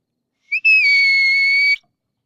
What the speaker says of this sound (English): using the placement of the whistle on my tongue